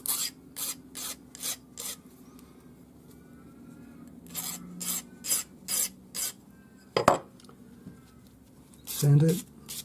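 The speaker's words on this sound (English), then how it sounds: "File both ends flat." A metal file rasps across the ends of a long piece of jewelry wire for turquoise and pearl earrings, making short, evenly spaced scraping strokes. They come in close, repeated bursts with small clicks and a brief voice near the end.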